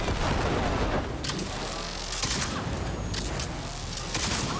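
Rapid gunfire from a weapon in the video game Cyberpunk 2077, loud bursts of shots in quick succession with short pauses between volleys, dense and close with no voices over it.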